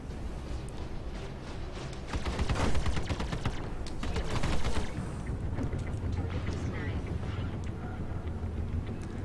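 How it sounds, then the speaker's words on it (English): Rapid bursts of heavy size 3 cannon fire from a Super Hornet spaceship in Star Citizen over a constant engine roar, loud and continuous, with a voice talking underneath. "Those size 3 cannons pack quite a big punch, though."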